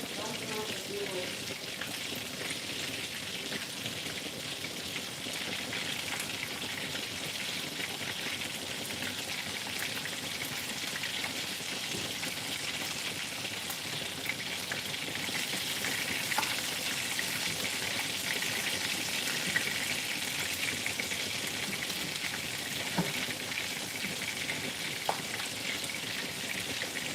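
Meatballs frying in a pan give a steady, even sizzle with faint crackles and pops, fairly close and continuous throughout, with no talk over it.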